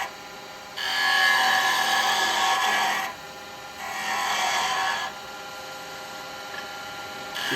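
Carbide cutter for a woodturning tool being sharpened: two sustained grinding passes, the first longer and louder than the second, heard close up with no talking.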